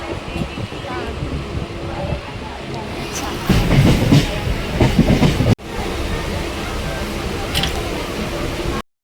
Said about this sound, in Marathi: देख सकते हैं मेरा ट्रेन आ गया